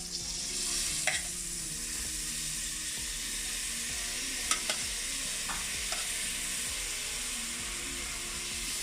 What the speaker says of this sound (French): On rajoute le riz.